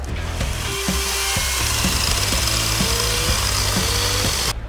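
A small cordless chainsaw whines steadily while cutting through a log in a forest, its pitch dipping and rising as the blade bites, loud and close throughout.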